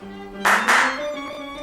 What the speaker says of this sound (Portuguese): 2 palmas ele apaga.